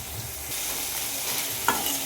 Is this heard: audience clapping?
no